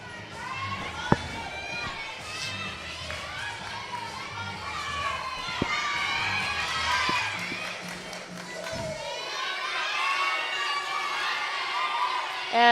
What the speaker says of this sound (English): If you're listening to that, that's the sound of everyone cheering.